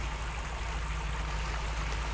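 Creek water flowing steadily in the off-road driving game Spin Tires, a continuous rushing wash with a low engine rumble beneath, constant and fairly near with no talk.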